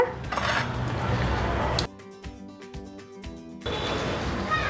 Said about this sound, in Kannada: ಈಗ ಟೊಮೆಟೊ ತಣ್ಣಗಾಗಿದೆ, ಇದನ್ನು ಮಿಕ್ಸಿ ಜಾರಿಗೆ ಶಿಫ್ಟ್ ಮಾಡ್ಕೊಳ್ಳೋಣ